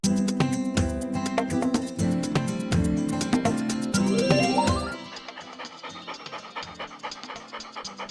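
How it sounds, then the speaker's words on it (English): A dog pants steadily in the video game Paradigm, its quick breaths running over jingly, tinkling game music that turns quieter about halfway through. "there is only an actual dog staring back at me confusedly"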